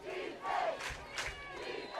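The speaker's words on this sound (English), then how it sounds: "the Lakeridge fans below us trying to cheer on their defense to force a stop" Lakeridge lacrosse fans cheer from the stands below during the 2025 OHSLA final against Jesuit, a loud, sustained crowd roar with swelling shouts rising and falling in waves.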